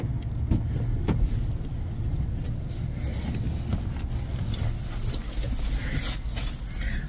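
Car cabin on the road, with steady low engine and road rumble throughout, light jingling or rattling on top, and no talk.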